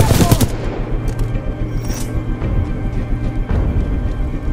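In the video game Titanfall 2, a loud grenade blast opens, then rapid gunfire crackles in close bursts, with a sharp shot near two seconds and another burst toward the end.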